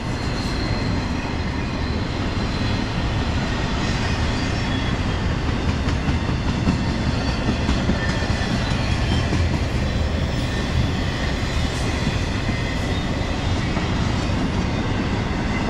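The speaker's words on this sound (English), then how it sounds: "It normally doesn't pull all these empty train cars like this." Long Union Pacific freight train of empty cars rolling past, a steady loud rumble with continuous clickety-clack from the wheels and no break for the whole stretch.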